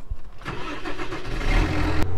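A farm truck engine cranks and catches, then settles into a steady low idle rumble, close and fairly loud, with no talking.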